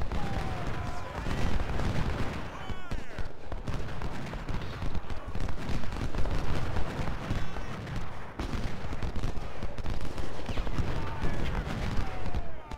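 Volleys of musket fire from Civil War troops in Ultimate General: Civil War, a dense continuous crackle of gunshots and booming reports at steady loudness throughout, with no pauses.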